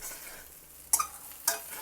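A spoon stirs sliced spiny gourd frying in a pan, with a soft background sizzle and two sharp scraping clinks of the utensil against the pan.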